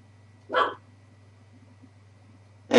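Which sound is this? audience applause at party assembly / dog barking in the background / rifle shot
dog barking in the background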